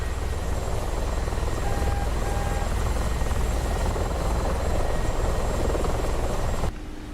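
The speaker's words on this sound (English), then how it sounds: "So there, now it's a helicopter." A helicopter in a flight simulator game flies steadily with a loud, continuous rotor thrum and engine whine that holds level for several seconds before dropping slightly at the end, no voices over it.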